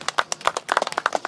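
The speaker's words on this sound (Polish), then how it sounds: "Gromkie brawa." Applause for a prize-winning team at an outdoor Sobótki midsummer event beside Lake Wielkie in Miechucino: a short burst of quick, irregular hand claps from a small group, close and fairly loud.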